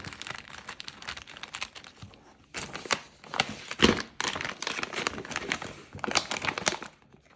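A plastic snack bag of cheddar parmesan cheese balls with a Ziploc closure is handled up close, giving bursts of crinkling and rustling that come and go in uneven waves.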